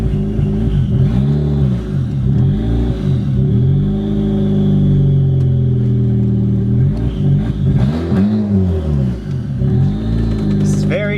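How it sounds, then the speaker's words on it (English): A turbocharged R18-powered Honda Civic pulls off in first gear, its engine rising and falling through repeated revs and sweeping pitch changes, loud and close, with a person talking over it. "it's a moment of truth to see if the car moves in gear"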